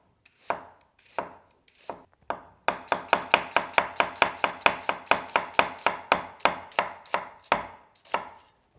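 A kitchen knife slicing through an ingredient on a cutting board, a few spaced cuts followed by a fast steady run of about twenty crisp, close knocks, then slower cuts at the end, with no talking.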